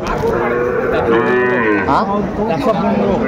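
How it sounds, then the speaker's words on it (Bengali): A young Sahiwal bull calf, about six months old, moos loudly several times at a busy cattle market, with crowd chatter faintly underneath. "শাহিওয়ালের ষাঁড় বাচ্চা"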